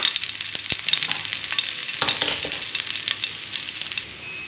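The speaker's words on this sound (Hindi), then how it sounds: "अब इसमें हम हरी मिर्ची डाल देंगे" Green chillies frying in hot oil, a bright hissing sizzle with sharp spatter pops and stirring clicks that eases off near the end, no voices.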